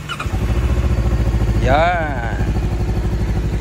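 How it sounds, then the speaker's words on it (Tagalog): Voge 525RR motorcycle engine cranks and catches, then settles into a steady, loud idle with an open cover and silencer fitted, a voice briefly speaking over it outdoors. "start natin ang engine"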